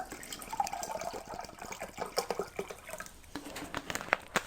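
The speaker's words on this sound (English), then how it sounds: "I'm going to get some water now." Tap water runs in a home kitchen while baking cheddar and chive rolls, a steady watery splash with scattered drips and clinks, fairly quiet and without talk.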